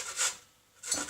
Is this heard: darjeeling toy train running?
no